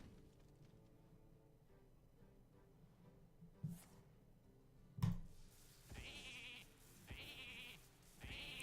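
Sheep bleat in the Hearthstone video game: three short, bright bleats arrive in quick succession near the end, after a couple of softer game clicks and effects over a quiet background.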